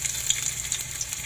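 Onions frying in a pan, giving a bright, steady sizzle with small spattering pops, heard close and alone for a brief moment.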